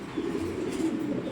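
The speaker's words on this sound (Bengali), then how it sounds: "এটা হলো বিডার মাদি।" A racing pigeon breeder hen coos in a low, soft, continuous burr, close by and alone for a brief moment.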